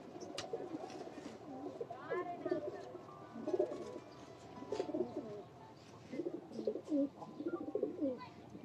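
Pigeons from someone's breeding loft coo in low, repeated throaty bursts close by, with faint chirps and human speech mixed in and overlapping the calls.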